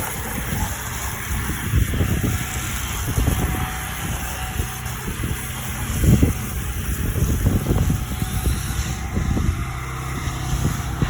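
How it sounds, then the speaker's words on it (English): Steady, heavy wind buffets the microphone throughout, with low rumbling gusts swelling and fading; no voices are heard. "Pretty windy right now."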